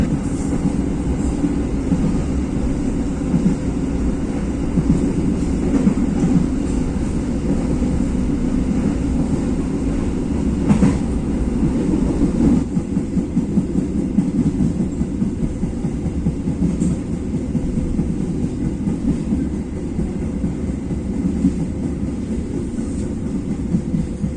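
A CL Blorasura local passenger train runs on rails toward Surabaya Pasar Turi station, heard from inside the carriage as a steady, loud rumble with faint clatter and wind noise throughout, and no voices.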